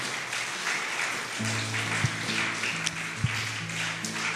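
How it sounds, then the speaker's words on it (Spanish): Applause from a church congregation fills the space, a steady broadband patter running throughout at moderate level with a low hum beneath and a couple of sharper claps standing out. "¿Le quieres dar un fuerte aplauso a Jesús?"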